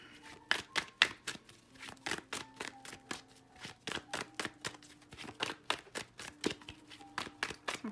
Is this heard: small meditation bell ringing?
no